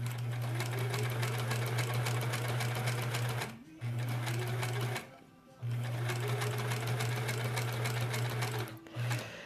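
A sewing machine stitches a quilt block in steady runs, its motor humming loud and close, stopping briefly twice between seams before starting up again.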